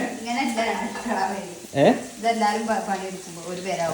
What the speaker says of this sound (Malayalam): ഒരടുക്കളയിൽ സിനു മീൻ പൊരിക്കുന്നു